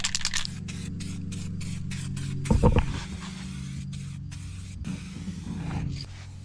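A spray can lays down a light tack coat of paint in a series of short hissing bursts separated by brief pauses, close and moderately quiet, with a small clatter partway through.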